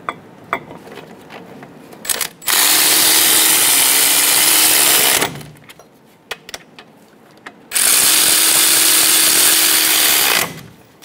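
A power tool tightens brake caliper bolts on a 2005-2015 Toyota Tacoma in two loud, close bursts of about three seconds each. Short clicks and handling noises come between the bursts.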